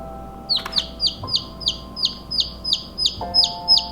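Chickens cheep in a fast, regular series of high peeps, close by, with a faint steady hum and tones underneath.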